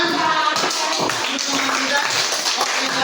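Classroom applause from students, a dense patter of many hands clapping continuously and fairly loud for a few seconds, with some voices mixed in.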